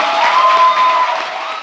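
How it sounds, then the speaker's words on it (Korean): A studio audience breaks into steady, loud applause, dense clapping and crowd noise held at an even level for the whole moment. "박수 한번 부탁드립니다."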